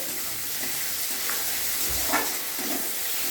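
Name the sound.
chopped tomatoes frying in oil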